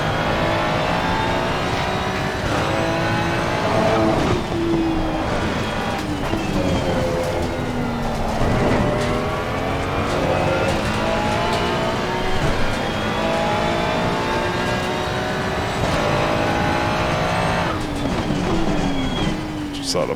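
A Ferrari 296 GT3 race car engine in the racing game Assetto Corsa Competizione, revving hard through rising and falling gear sweeps over several shifts, loud and close, with a voice talking over it.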